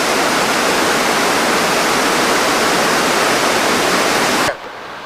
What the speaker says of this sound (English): The water's being blown off by 122 pounds of air pressure.